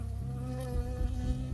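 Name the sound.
bee buzzing in the video game Firewatch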